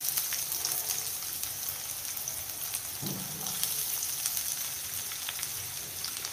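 Finely chopped onion frying in a pan for methi aloo masala gravy, a soft steady hiss resembling light rain, with one brief stirring knock midway; no talk.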